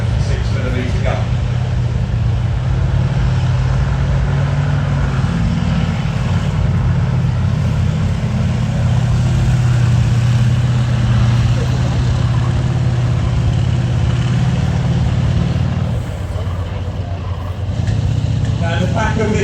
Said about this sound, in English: that noise you can hear there, it's an aeroplane engine.